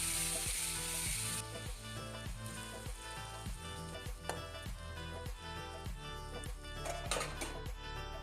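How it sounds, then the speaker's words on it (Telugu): Green chillies and onions sizzle in hot oil in a kadai, a bright, steady frying hiss joined by a regular series of stirring or tapping knocks, close and unaccompanied by speech. "ఇప్పుడు పచ్చిమిర్చి, ఉల్లిపాయలు వేసి బాగా కలిపి మూత పెట్టాలి."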